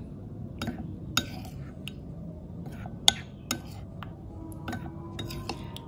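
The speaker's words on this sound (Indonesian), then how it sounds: "Nah kita aduk sampai melted ya." A spoon stirs melted chocolate and oil in a pan on a switched-off, still-warm stove, giving faint scattered metallic clinks and scrapes at irregular moments over a low steady background.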